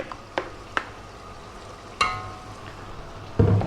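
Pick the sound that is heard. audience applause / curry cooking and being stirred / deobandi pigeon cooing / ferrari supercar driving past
curry cooking and being stirred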